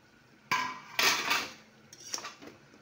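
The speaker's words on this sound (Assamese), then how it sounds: "এয়া 5 মিনিট পিছত আকৌ ঢাকনিখন আমি গুচাই দিলোঁ।" Lid pulled off a cooking pot of chicken curry: a sudden metallic clank, a brighter clattering scrape, then a few lighter clinks, close by with no talk.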